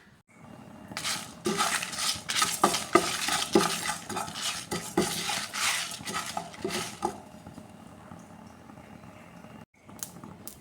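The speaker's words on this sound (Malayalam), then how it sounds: "ഉലുവ, ചെറിയ ജീരകം, വലിയ ജീരകം, കായപ്പൊടി, ഉണക്കമുളക് ഇതെല്ലാം നന്നായി വറുത്ത് പൊടിച്ചിട്ട് വരാം" Fenugreek, cumin, fennel, asafoetida and dried red chillies rattle and scrape as they are stirred in a dry pan, a busy rhythmic clatter that quiets toward the end.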